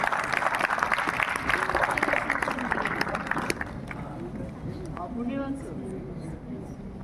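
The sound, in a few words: audience applause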